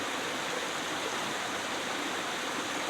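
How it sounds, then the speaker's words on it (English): Continuous broadband rushing of a river flowing close by, steady and loud with no break. "you can't tell because of the noise of the river"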